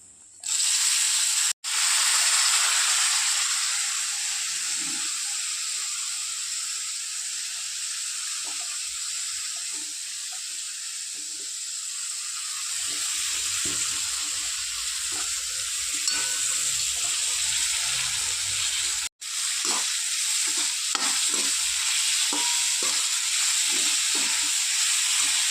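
Vegetables fry in a hot pan for a Marathi mixed bhaji of cauliflower and pigeon peas, giving a loud, steady broadband sizzle with short stirring scrapes and clinks, no voices over it.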